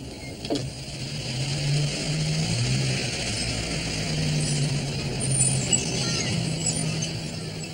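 A car engine hums steadily at a low, even drone while driving along a town street, the running noise continuous and moderately loud with no speech over it.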